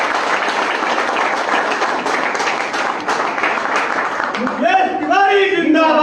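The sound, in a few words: crowd applause at a public event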